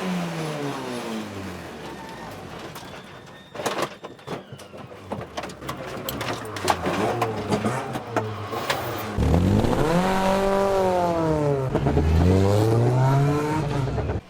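Race cars rev and pass through a busy pit lane during a safety car period at a real car race, engines rising and falling in pitch, with a loud, steady engine drone building toward the end.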